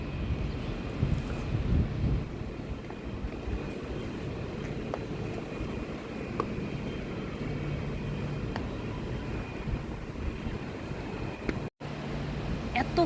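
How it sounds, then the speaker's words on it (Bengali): Open outdoor breeze buffets steadily against the microphone in a quiet, natural setting, a continuous rushing noise with no voices. "কি সুন্দর খোলামেলা বাতাস"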